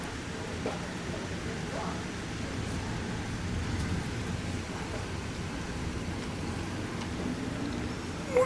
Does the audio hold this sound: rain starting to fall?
yes